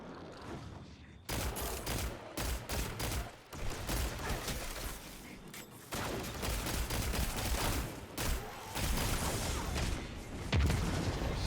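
A grenade explosion and rapid gunfire fill a Destiny strike match, with dense, loud bursts of shots and booms following one another almost without pause.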